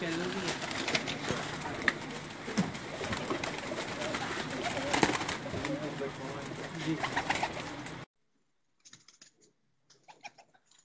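Pigeons coo amid a busy, noisy background with murmured voices, then the sound drops away to a few faint, quiet bursts near the end.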